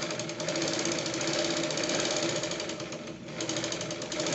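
Sewing machine stitching six-panel petticoat fabric, a steady, fast mechanical rattle running continuously at close range with a brief dip near the end, no voices.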